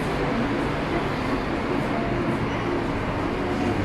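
Inside a BTS Skytrain car in Bangkok, a steady, continuous rumble and hum of the train fill the space without a break.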